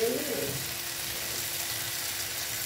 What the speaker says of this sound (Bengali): এবার মশলার সঙ্গে একটু এটা ভেজে নিচ্ছি